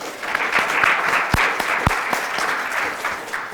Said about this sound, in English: I'd like to give all of those people a round of applause